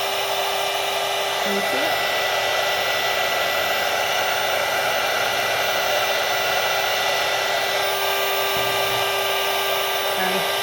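Craft heat tool blowing hot air in a steady, loud broadband whoosh throughout, used for journaling embellishment, with a person speaking briefly over it.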